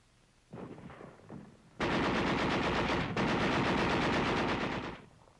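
Heavy gunfire in a street battle in Praga as Red Army troops advance past barricades and pillboxes, with tanks and artillery firing. Softer rumbling bursts give way to a loud, continuous barrage that breaks briefly, then roars on.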